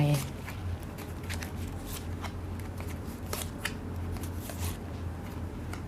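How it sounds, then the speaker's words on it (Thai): Tarot cards are shuffled and gathered by hand in a series of quick, crisp riffling flicks and soft slides, close and fairly quiet, with low background hum. "คนโสดขอเก็บไพ่นิดหนึ่ง"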